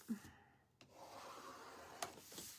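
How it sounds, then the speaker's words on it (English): A small scraper tool rasps wax off a wooden gnome shelf sitter in steady close scraping strokes, with a couple of sharper clicks as the blade catches, fairly quiet and without any talk. "we're going to take our little scraper tool and we're going to go through and scrape"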